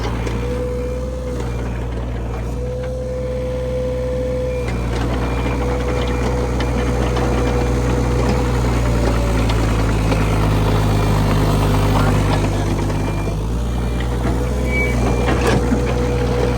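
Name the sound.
Case CX31B mini excavator engine running, tracks spinning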